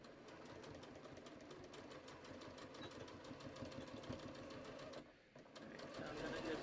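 A sewing machine stitches a cushion cover, making a steady, rapid mechanical whirr that runs close and continuous, dipping briefly near the end before resuming.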